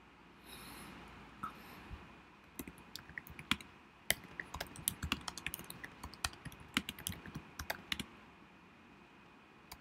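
Typing on a computer keyboard: a quick, irregular run of crisp key clicks, close and fairly quiet, with short pauses between bursts.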